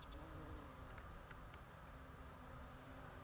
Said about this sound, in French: un bourdon